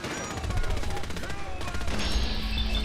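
Rapid machine-gun bursts and explosive blasts from a firefight in Fallout 4, dense and continuous at moderate level, with game voices and effects mixed in.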